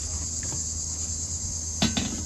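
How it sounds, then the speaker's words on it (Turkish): A cricket chirps with a continuous high trill from a mulberry tree outdoors, steady and fairly near, with a couple of brief knocks toward the end and no talk. "Ha, dutun üstünde de bir tane cırcır böceği var."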